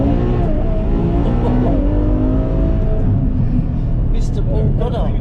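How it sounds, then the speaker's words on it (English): A Ferrari F12 with a Quicksilver stainless steel sports exhaust roars loudly and continuously as it drives, its engine note climbing and shifting, with no talk over it. "A Ferrari F12 in motion with none other than the OG of Quicksilver exhaust."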